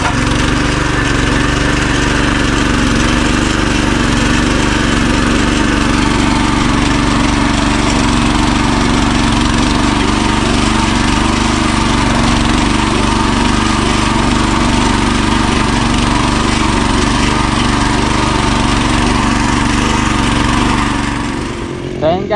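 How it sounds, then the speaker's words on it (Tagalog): A grass cutter runs steadily and loudly for the whole stretch, a constant droning engine whine over a farm field, with no pauses and no voices over it. "bali magka-grass cutter muna kami dalawa ni Kuya DL"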